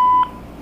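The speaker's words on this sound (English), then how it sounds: "Please record your message after the" A single steady electronic beep from a BellSouth MH9934BK answering machine, lasting a fraction of a second, clear and close, followed by faint background hiss.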